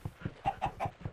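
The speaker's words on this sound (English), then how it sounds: "It's a chicken." A Minecraft chicken clucks in a quick series of about six short, soft bursts at an even rhythm.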